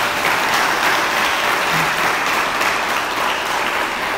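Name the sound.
church congregation applause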